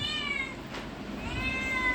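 A cat meows twice close by, a short mew followed by a longer rising one, with a faint soft background.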